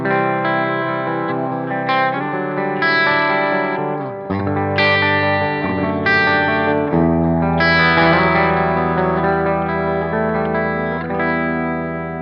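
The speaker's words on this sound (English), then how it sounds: "So the 6-string side on clean, it sounds like this." Clean electric guitar chords from the 6-string side of a double-neck guitar ring out alone, strummed and arpeggiated with a bright, steady tone and some reverb, lasting throughout.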